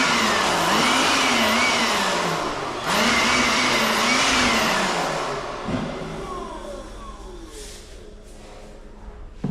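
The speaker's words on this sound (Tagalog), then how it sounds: "Binoblower namin yan kasi may mga sumusuksok dyan na alikabok." An air blower blasts dust off a window, giving a loud, close, continuous roaring whoosh whose pitch wavers up and down before easing off toward the end.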